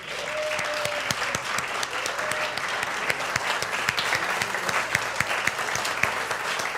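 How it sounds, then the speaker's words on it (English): Congregation at a Sunday church service applauding the volunteers, a steady dense round of clapping throughout with a few sharper nearby claps, no talk over it. "let us just give you a nice big round of applause"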